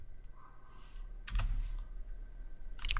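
Typing on a computer keyboard while entering table column names in PostgreSQL, heard as a few quiet key clicks with a louder burst of taps near the middle and end.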